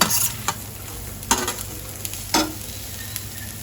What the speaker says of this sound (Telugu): తర్వాత మనం వేయించుకున్న స్వీట్ కార్న్ ఉన్నాయి కదండి, డీప్ ఫ్రై చేసుకుని అవి ఇందులో చేసుకోవాలి.